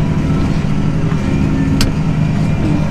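A tractor pulls a seeding implement while sowing oats in a field, its engine a loud, steady, close-up drone that rumbles without a break and has no voices over it.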